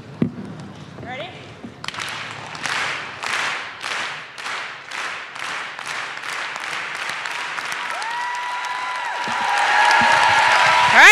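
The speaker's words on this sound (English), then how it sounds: "We're going to do a slow clap again" An audience at a tech conference in the Castro Theater, San Francisco, does a slow clap: about a dozen loud, evenly spaced claps that speed up and dissolve into sustained applause, with a voice speaking briefly at the start.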